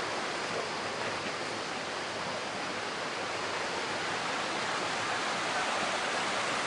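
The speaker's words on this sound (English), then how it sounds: "Down over there is the river. More like a creek" A jungle creek rushes steadily nearby, a broad continuous wash of flowing water with no voices over it.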